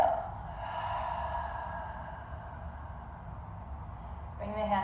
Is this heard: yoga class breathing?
yes